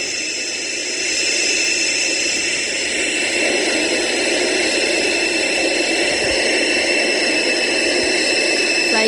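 A jet airliner's engines roar in a flight video game, a loud, steady broadband rush with a high whine, continuous and unchanging with no talking.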